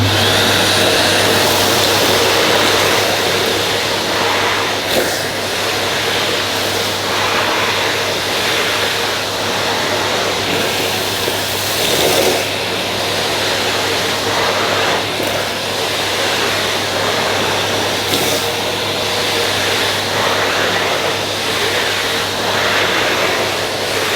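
Numatic Henry Clean Air HVA 160-11 vacuum cleaner running as it picks up dirt, a loud steady motor whine and airflow roar with small shifts as the nozzle is tilted, continuous and close.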